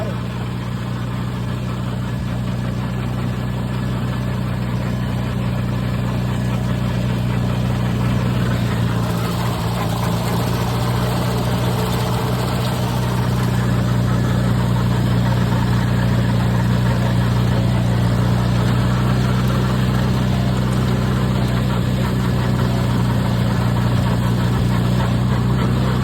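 An IH Farmall tractor engine runs steadily at about two-thirds throttle while mowing an overgrown field, a continuous low droning hum with a slight rise in intensity partway through, close and loud with no other sounds over it.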